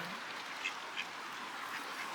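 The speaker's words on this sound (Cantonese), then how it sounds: "呢個鴨仔，有小鴨仔。" Two faint, brief quacks from ducks with ducklings a moment apart over a steady outdoor hiss, at a lake in Iceland.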